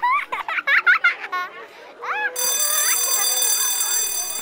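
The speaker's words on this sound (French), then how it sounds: "Oh, la sonnerie!" Children's voices chatter and squeal in a cartoon schoolyard, then a shrill electronic school bell starts ringing continuously and stays loud to the end.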